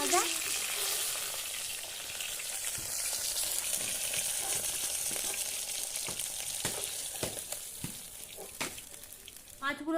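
Tilapia pieces frying in mustard oil in a hot karahi, a continuous crackling sizzle with scattered sharp pops and spatters, some utensil scraping near the end.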